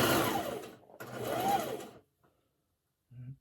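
A sewing machine stitches soft, stretchy fabric for a mask hood in two short bursts of whirring, close and fairly quiet, followed by a pause and a brief final run.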